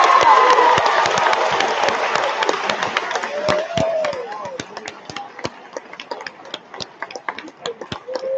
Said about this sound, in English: let's give another great big round of applause